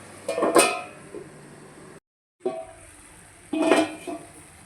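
A lid is set on a cooking pot of bitter gourd and tomato curry: a couple of close, sharp metallic clinks and clatters, separated by a brief pause, with a quiet kitchen background.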